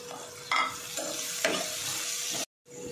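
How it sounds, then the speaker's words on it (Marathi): Onion, tomato and coriander fry in a pan for a quick rice dish, making a close, continuous sizzle with a few stirring scrapes before a brief cut to silence. "हा टोमॅटो टाकते मी आणि कोथिंबीर पण टाकते।"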